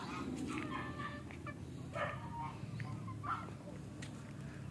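Chickens cluck on a poultry farm during a walking tour, their calls steady and close amid a busy background, with a voice talking intermittently over the flock.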